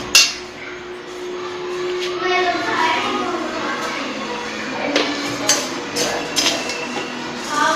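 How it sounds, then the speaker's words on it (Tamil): Roasted lentils for homemade idli podi pour into a container that already holds urad dal, giving a dry, rattling rush of grains with a few small clinks at close range. "இப்போ நம்ம எடுத்து உளுந்து கொட்டி வச்சதுலேயே இதுவும் கொட்டி வச்சிடலாம்."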